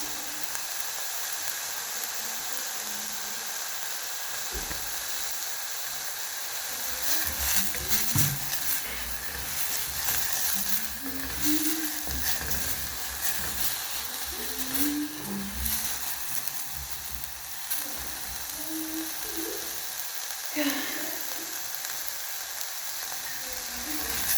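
Brown rice sizzles steadily in a hot pan, a continuous frying hiss broken by occasional stirring scrapes and clinks, with no voices over it.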